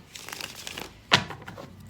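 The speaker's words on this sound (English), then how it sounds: "let's give it a little shuffle, see what comes up" A tarot deck is shuffled by hand at close range: soft papery rustling, then a single crisp snap of cards partway through.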